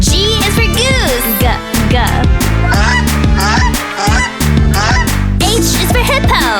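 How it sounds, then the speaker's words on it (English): Loud, repeated goose honks come in a rapid series over musical backing, close and insistent. "G is for goose. Honk, honk."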